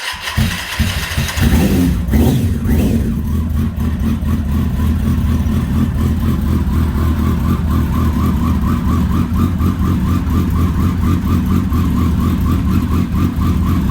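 A Kawasaki ZX10R motorcycle engine cranks briefly and fires up, then settles into a loud, steady idle with a continuous low rumble and a faint rhythmic whir above it, close by in a garage.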